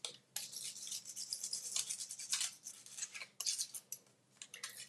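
A brush sweeps paper scraps out of delicate openwork die-cut shapes in a crafting session, a close, soft scratchy swishing in quick repeated strokes with brief pauses, no talking.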